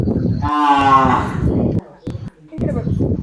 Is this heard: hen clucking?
no